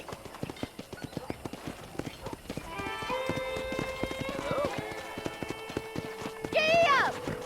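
Horse hooves clip-clop in a steady rhythm in the video game Red Dead Redemption, close and clear, with a horse whinnying near the end over background music.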